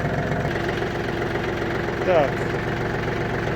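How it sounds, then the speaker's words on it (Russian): A Yanmar F-210 Japanese mini tractor engine idles with a steady, even mechanical drone throughout, close by. A short spoken word cuts in once. "Трактор завелся с первого раза без каких-либо дополнительных проблем."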